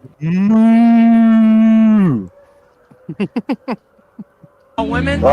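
A person imitates a cow's moo during a tabletop role-playing game: one long, loud, steady lowing call lasting about two seconds, followed by clipped bursts of voice and then more talking.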